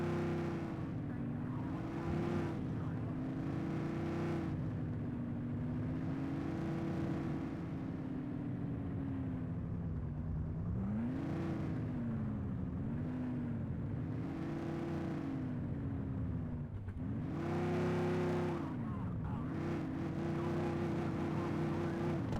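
A V8 police patrol car engine in a video game revs repeatedly, a deep throbbing drone that swells and dips in several rising surges, steady and close for the whole stretch.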